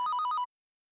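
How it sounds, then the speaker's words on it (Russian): Electronic telephone ring in the rhythm game Project SEKAI Colorful Stage, a short burst of rapid trilling bell pulses, about six quick beats, clear and alone before abrupt silence. "Телефон звонит."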